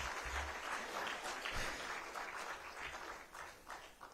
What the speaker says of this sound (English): Another round of applause for Hilda, please.